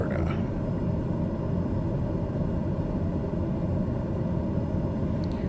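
A steady, loud airplane engine drone hums on a runway in a flight simulator game, with a continuous low rumble and no break.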